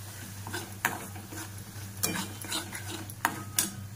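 Mutton masala fries in oil and is stirred, a soft continuous sizzle with a few scraping clatters of the spoon against the pan, close by with no voices.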